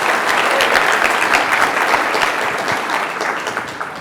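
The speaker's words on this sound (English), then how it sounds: "Give yourselves a round of applause if you agree with that." A seated audience at a motivational talk breaks into sustained, dense applause that fills the room for a few seconds, then tapers slightly, with no voices over it.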